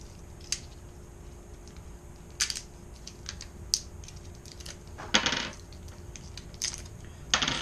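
Batteries dropping out of a new thermometer's plastic package, heard as a few sharp, light clicks and clatters spread over several seconds, close and fairly quiet.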